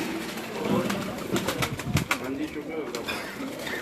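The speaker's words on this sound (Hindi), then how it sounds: "डब वाले कबूतर हैं जी।" Dub-type pigeons coo in a loft, a dense ongoing murmur of calls close by, partly overlapped by a voice.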